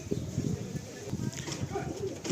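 Tournament-flown racing pigeons in a loft coo and stir restlessly at close range, a steady murmur of low calls under a voice.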